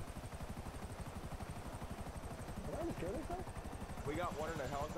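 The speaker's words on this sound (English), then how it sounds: "We got one in a helicopter." Helicopter rotor in the GTA V video game, a steady rapid chopping pulse running throughout at a constant level, with a voice talking over it.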